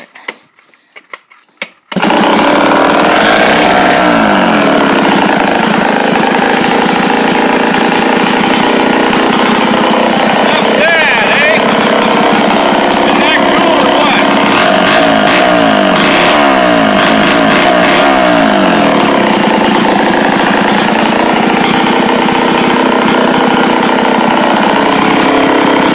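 A Homelite 775D two-stroke chainsaw starts after a brief rattle and runs loud and close. Its engine roars continuously with fluctuating revs for the rest of the clip.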